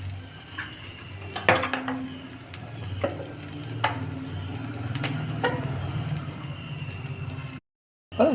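Potato snacks frying in oil in a pan, with a steady sizzle underneath and several sharp scraping and clinking knocks from a utensil as the pieces are turned, ending with a brief gap.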